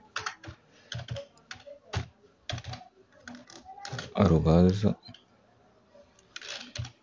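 An email address is typed on a computer keyboard, with quick close bursts of clacking keystrokes in irregular groups, and a voice speaks briefly partway through.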